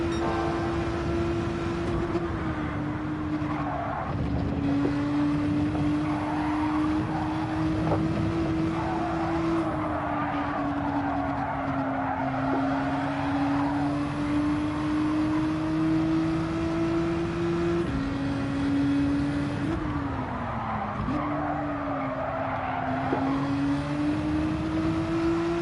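Nissan GT-R race car in the Gran Turismo 7 video game, its engine holding a steady, loud drone that dips and climbs through gear shifts and braking over a long run, with the pitch repeatedly falling and recovering.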